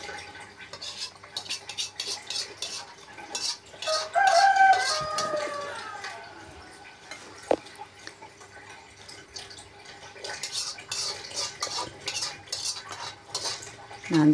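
Dishes and cutlery clink and scrape intermittently while chicken wing balado is plated in a home kitchen, with a cluster of sharper clatters midway and quieter handling throughout, no talking.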